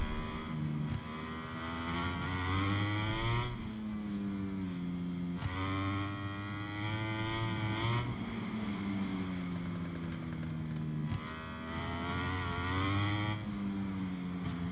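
Racing motorcycle engine in MotoGP 23 screams as it accelerates through the gears, pitch climbing in repeated sweeps with shifts between them, loud and continuous through the lap.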